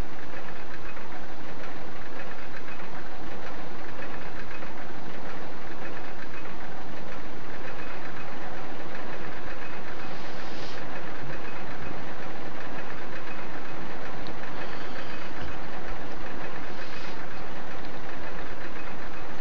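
A roller coaster train in RollerCoaster Tycoon runs along its track, giving a loud, constant rumbling roar with faint rattling clatter that persists unbroken throughout, with no voices over it.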